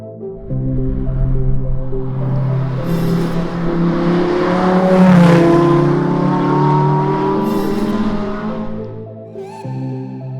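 A Lamborghini Huracán Performante sweeps past in loud, close flybys, its engine note rising and falling with strong harmonic howl as it approaches, peaks and recedes, followed by a second pass starting at the end.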